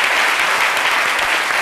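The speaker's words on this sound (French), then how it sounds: "Allez, des applaudissements pour vous accompagner." Audience applause, a steady, thick wash of many hands clapping at once, loud and unbroken throughout with no voices on top.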